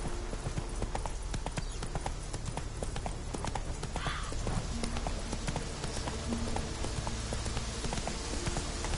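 A horse's hooves clip-clop at a steady walking rhythm in the video game The Witcher, moderately close, over a soft rain-like ambient bed.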